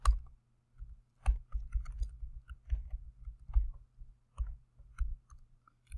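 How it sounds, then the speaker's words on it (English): Computer mouse clicks, singles and quick doubles, sounding close and crisp at an uneven pace against a low steady hum while formatting a brochure in InDesign. "I'm going to click a plus, and then I immediately am going to double click that"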